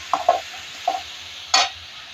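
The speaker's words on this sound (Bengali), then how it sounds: "এই যে সোনার ডাইল আর ধনিয়া পাতা একসাথে দিয়ে দিলাম আর বেশিক্ষণ রান্না করব না একসাথে দিয়ে একটু নেড়ে ছেড়ে রান্নাটা সেরে নিচ্ছি" Mung dal and coriander leaves being stirred into a frying vegetable bhaji: a few sharp spatula scrapes and clinks against the pan over a low, quiet sizzle, close and without speech.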